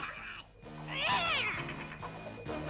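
A cartoon cat from The Smurfs lets out a drawn-out, wavering meow at close range, rising and falling in pitch over a steady backdrop of music and voices.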